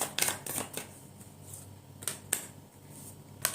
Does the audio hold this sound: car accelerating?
no